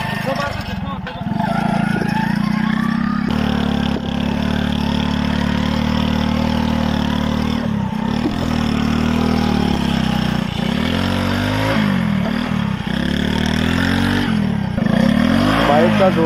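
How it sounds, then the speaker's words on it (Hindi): A motorcycle engine revs hard while the bike is stuck in river sand along the Sutlej. It makes a loud, continuous drone that surges and dips throughout, with people talking over it. "बाइक का जोर लगा रहे हैं ये भाई ने पकड़ के निकाली है ये बिल्कुल ही रेत में फंस चुकी थी"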